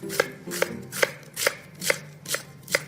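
A knife slices radicchio thinly for a salad, giving seven crisp, evenly spaced cuts against a board, close and quiet with no talk.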